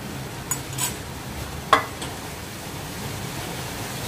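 Ghee sizzles quietly on a wheat-flour masala paratha cooking in a pan, a soft steady hiss broken by a few brief scrapes and taps.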